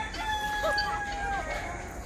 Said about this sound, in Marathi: हे बघा, या अशा प्रकारे आपल्या कोंबड्या आहेत सर्व।